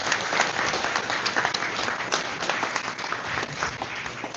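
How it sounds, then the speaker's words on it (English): An audience at a livestreamed astronomy talk event claps in a sustained, dense round of applause, loud and even across the room. "let's give another round of applause for Phil for a great talk"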